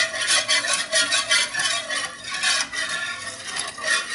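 A sauce stirred in a pan, rhythmic scraping strokes repeating about twice a second, close and fairly loud, with a faint sizzle underneath and no voices.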